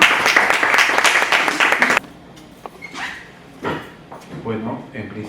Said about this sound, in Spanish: bienvenida aquí el doctor Napoleón Ambrosio, a quien recibimos con un fuerte aplauso.